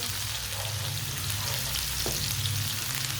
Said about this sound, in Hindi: सब्ज लहसुन थोड़ा सा डाल लेंगे साथ, इसे भी 1 मिनट के लिए पका लेते हैं।